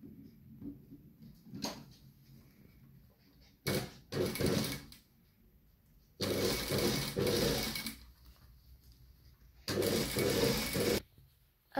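A sewing machine sews a seam 5 mm from a folded fabric edge in several short bursts of fast, close needle chatter, separated by quiet pauses and small handling clicks.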